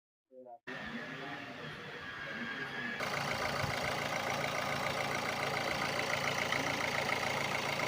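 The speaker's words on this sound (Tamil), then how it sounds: "வண்டியை வந்து ஸ்டார்ட் பண்ண போகிறோம் இப்போது." Renault Duster engine cranking briefly, then catching and settling into a steady idle after a timing belt replacement, the running engine heard close, continuous and growing slightly louder.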